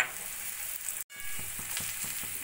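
Jackfruit fries with onion, salt and cumin powder in a pan, giving a close, even sizzle with a brief break near the middle and soft stirring taps afterward.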